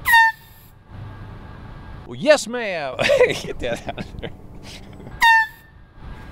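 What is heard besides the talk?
vehicle horn honking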